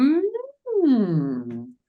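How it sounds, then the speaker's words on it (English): A single voice hums, first a rising glide, then after a brief pause a long sweep falling from high to low across the vocal range, close and clear with no other sound. "can you hum from the top of your range to the low of your range"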